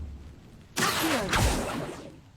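An Incendio fire spell is cast in the Hogwarts Legacy game: a sudden, loud, close whoosh of flame bursts out, swells once, then tails off over about a second and a half.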